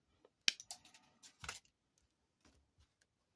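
A jewelry chain being cut with a cutting tool: a few crisp snipping clicks close together, then quieter scattered clicks in a hushed setting.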